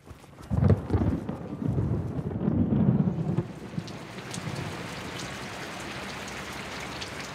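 Steady tropical rain pours down in Cuba with a deep rumble of thunder in the first few seconds, then settles into an even, close hiss.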